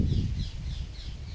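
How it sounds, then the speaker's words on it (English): Crows caw outdoors, a series of hoarse, evenly spaced calls repeating across the moment over a steady low background rumble, moderately loud with no voices. "and the birds are having their say too."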